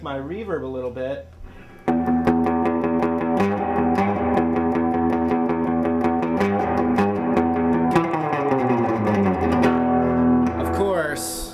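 Heritage electric semi-hollowbody guitar modeled on the Gibson ES-335, played through heavy reverb: chords and single notes ring out with long, washy sustain, loud and close, with a brief bend before the strumming starts.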